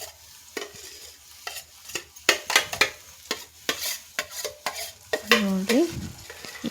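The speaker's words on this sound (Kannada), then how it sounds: "ಆಮೇಲೆ ನೆನೆಸಿಟ್ಟಿದ್ದು ಚುನ್ಮರಿ ಇದನ್ನ ಒಗ್ಗರಣೆ ಒಳಗೆ ಹಾಕ್ಕೋಬೇಕು" Soaked puffed rice going into a hot tempering and being stirred in a pan, a faint sizzle under repeated sharp scraping strokes of a spoon, with a brief squeak near the end.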